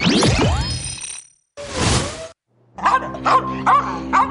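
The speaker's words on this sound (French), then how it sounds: "Des aboiements féroces sont parfois pires." A small dog in an animated cartoon barks ferociously in short, sharp bursts, with whooshing effects and other cartoon sounds around it.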